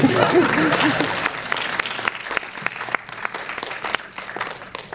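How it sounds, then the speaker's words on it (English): A press conference audience at a film festival breaks into applause, dense clapping at first that thins into scattered claps as it fades, with a voice briefly speaking over the start. "You can keep clapping."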